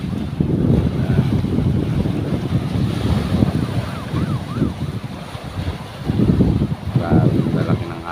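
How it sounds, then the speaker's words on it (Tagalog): Big sea waves and strong wind heard from a small outrigger fishing boat at sea in late afternoon, a steady rushing roar with surging swells and microphone wind buffeting, loud and close. "Grabe, malaki ng alon, no?"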